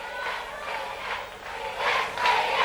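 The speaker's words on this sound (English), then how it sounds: "Oh, the crowd are really going" A wrestling crowd cheers and roars in continuous waves, swelling louder toward the end, heard from within a large indoor arena.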